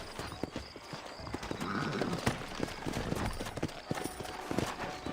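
Horse hooves clip-clopping in Red Dead Redemption, a steady, fairly close trot of sharp hoof strikes over a soft outdoor ambience, with a faint whinny-like tone midway.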